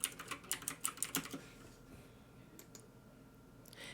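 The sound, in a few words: typing on computer keyboard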